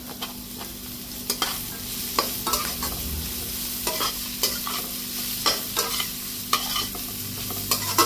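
Capsicum stir-fried in a pan for chowmein noodles: a soft continuous sizzle broken by repeated sharp scraping stirs of the spatula, close and fairly quiet, with no talking.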